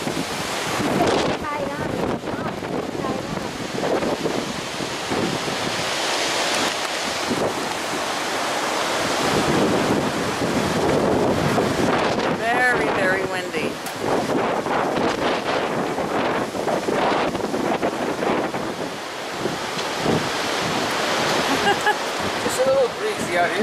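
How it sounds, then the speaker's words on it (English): Strong wind roars and buffets the microphone continuously, with surging gusts and rushing noise like surf, and a voice speaks faintly beneath it. "It's not raining, but it's very windy"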